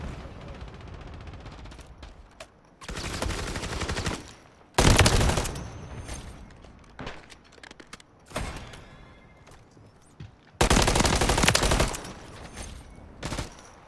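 Gunfire in Modern Warfare 3 online play, loud bursts of automatic fire in several clusters separated by quieter gaps, with some shots close and others farther off.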